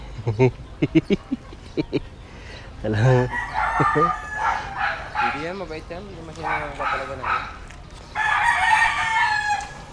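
Backyard bantam chickens cluck in short bursts and break into crowing, loud and near, with a dog barking in between and a person talking over the birds.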